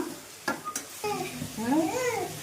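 Tomatoes sauté in a pan for a village-style dried fish curry, with a soft sizzle, a few sharp clinks as they go in, and a voice-like tone over the frying near the end, all fairly faint and close.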